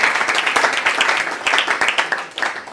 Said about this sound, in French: Nous pouvons acclamer pour la parole.